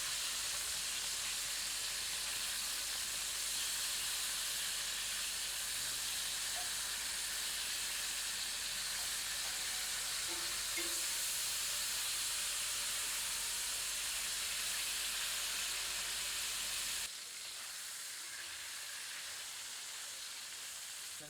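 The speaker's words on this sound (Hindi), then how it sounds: "इन्हें पलट पलट कर भूनते हैं ताकि इनकी ऊपरी सतह थोड़ी करारी दिखने" Chicken pieces fry in a pan for a Kali Mirch black pepper curry. A constant bright sizzle and hiss carries close and steady, then drops slightly near the end with no voice.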